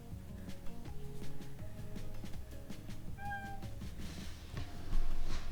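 A pet cat meows a few times indoors, short soft calls rising over a steady background hum and clatter.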